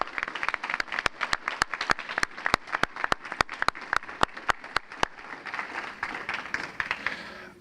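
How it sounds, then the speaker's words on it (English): An audience at a school recognition dinner gives a round of applause, with sharp, evenly spaced nearby claps over a softer spread of clapping that thins out toward the end. "Can we give them all one last big round of applause?"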